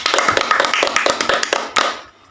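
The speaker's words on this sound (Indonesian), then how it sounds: "Silakan murid-murid berikan tepuk tangan kepada kelompok 1 dan kelompok 2" Students in a classroom give a short round of applause, a patter of hand claps that ends after about two seconds.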